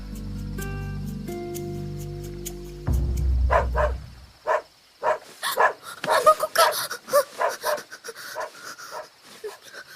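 A dog pants and yips close by in a series of short, uneven bursts, with a whimpering edge, following a few seconds of low musical tones; no speech.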